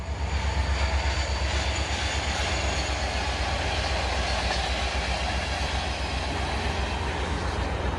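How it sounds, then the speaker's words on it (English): A train rumbles past close by, a steady heavy roar with rhythmic low thumping of wheels on track throughout. "oh, train."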